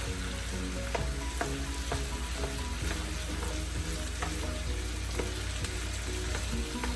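Potatoes fry in oil in a pan with a steady close sizzle, while a utensil stirs them and scrapes and taps against the pan at irregular moments throughout.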